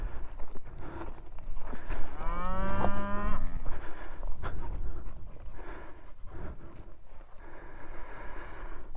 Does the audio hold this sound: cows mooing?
yes